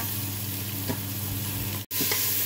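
Chicken fries in a pot for a dum cooker biriyani, a steady close sizzle with stirring scrapes and a brief cut in the sound near the end.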